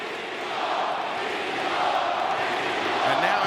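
Wrestling arena crowd roaring steadily in a broad, continuous wash of cheers and noise that swells slightly toward the end, with a commentator's voice talking over it.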